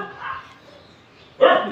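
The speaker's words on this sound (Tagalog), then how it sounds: "Ang aking aso nandoon." A dog outdoors on a hot morning in the Philippines gives two short barks, a softer one first and a sharper, louder one just after, with no talk around them.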